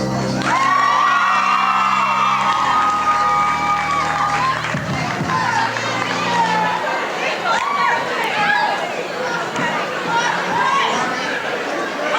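A loud crowd cheers and whoops with excited shouting and chatter at the start of a school mock election show, a lively audience roar that stays strong throughout.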